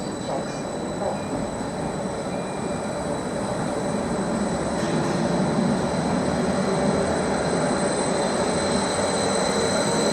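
Train passing through Ipswich station on a Greater Anglia line, a steady rumbling roar with faint wheel squeal running throughout at close range, loud and continuous with no voices.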